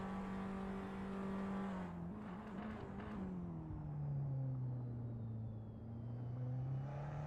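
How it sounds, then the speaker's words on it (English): Race car in Assetto Corsa at Istanbul Park, engine note dropping then climbing through a quick downshift, steady and close in a continuous drone with no voices. "Fastest downshift in the West."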